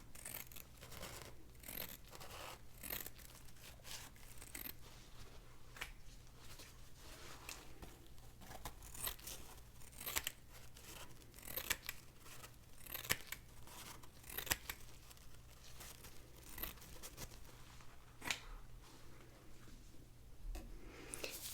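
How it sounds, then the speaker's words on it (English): Scissors snip through paper towel in a close, quiet series of crisp cuts and rustles, irregular and soft, continuing steadily with no talking. "Now I'm just going to cut some paper towel."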